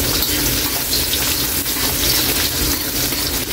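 Garlic and onion frying in a pan for dinuguan, a steady dense sizzle with gushing hiss, close and continuous.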